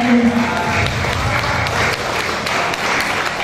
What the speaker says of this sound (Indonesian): Ya, berikan tepuk tangan untuk Ibu Nunung.